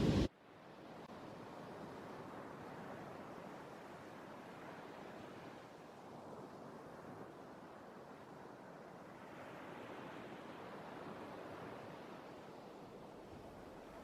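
Gentle ocean waves wash in a steady, soft surf roar that swells slowly and recedes, distant and continuous with a breezy hiss and no voices.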